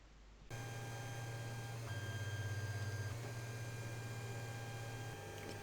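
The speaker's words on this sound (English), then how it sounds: "the printer now goes through what I call the calibration dance" Anet A8 3D printer with a bed leveling sensor running its calibration routine, steady whining stepper motor tones shifting pitch as axes move, faint and continuous with a soft mechanical hum.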